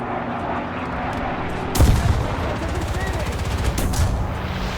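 Airplane attacking with machine guns in a World War-era tank video game: a sudden loud burst of rapid gunfire over a droning engine background, followed by continued rattling fire, with talk at points.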